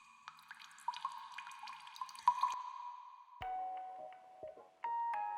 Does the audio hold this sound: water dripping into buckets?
yes